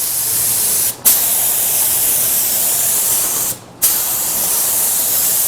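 A steady, loud aerosol hiss of Dupli-Color translucent candy coat paint being sprayed, broken by two brief pauses where the nozzle is released and pressed again.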